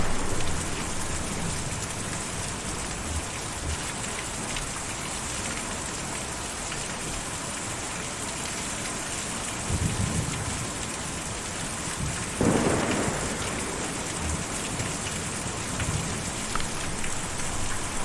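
Steady heavy rain in the Kentucky Route Zero video game, a constant dense hiss throughout, broken by two rumbling thunder cracks, a softer one near the middle and a sharper, louder one a little later.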